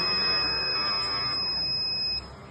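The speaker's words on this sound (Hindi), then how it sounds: "ये देखें लेवल क्रॉस किया और हमारा बजर चल पड़ा।" An electronic buzzer on a sound-sensor noise monitor project sounds a steady high piercing tone that holds for about two seconds, then drops away, with a low background hum beneath.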